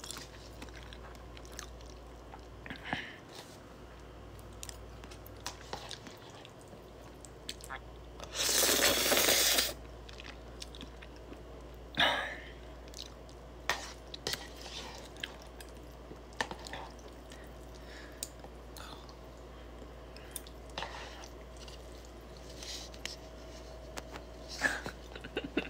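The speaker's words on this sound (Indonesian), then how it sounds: "Dan ini saya kunyah ya." A person chews food close to the microphone, with soft wet, crunchy chewing sounds running throughout, one loud crackling burst midway and occasional sharper bites, with no talking.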